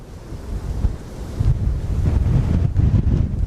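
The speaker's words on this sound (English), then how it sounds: "Yeah, this wind is shredding." Strong west-southwest wind gusts roar across an open rural area near a barn, buffeting the microphone in a loud, continuous rumbling rush that swells and surges throughout.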